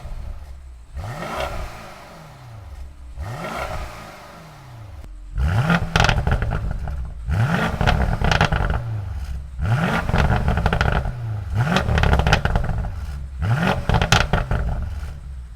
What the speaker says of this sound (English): it's actually a quad exhaust on each side, and it sounds amazing when you have this car in Sport Plus